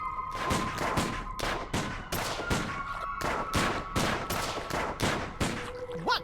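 Rapid, loud volleys of gunfire from guns in the Sam and Max video game, shots fired in quick succession with steady rhythm for several seconds and no talk over them.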